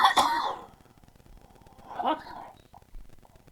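A single sharp cough up close, followed a moment later by a softer throat-clearing cough in an otherwise quiet space.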